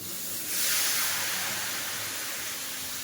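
A broad hiss of sizzling swells up suddenly and then holds steady as thalipeeth flatbread dough hits a hot oiled griddle, close and continuous with no talking.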